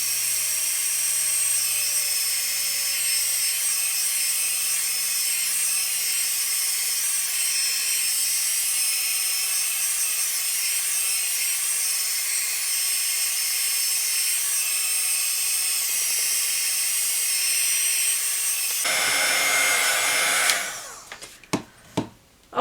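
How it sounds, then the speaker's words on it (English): A heat tool blows hot air to dry paper for an envelope journal craft, a loud steady whirring hiss that runs for about 19 seconds before a brief surge and a clunk as it switches off, followed by a few soft knocks. "I'm going to use my heat tool."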